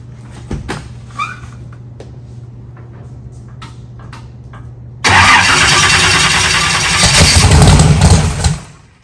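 An engine fitted with a new dry sump oil system cranks through a few faint clicks and knocks, then starts loudly and runs at a roar for several seconds before cutting off abruptly.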